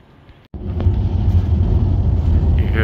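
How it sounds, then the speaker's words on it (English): A train passes overhead in Sofia, Bulgaria: a deep, loud rumble cuts in abruptly after a quiet moment and holds steady and close throughout. "You hear that train?"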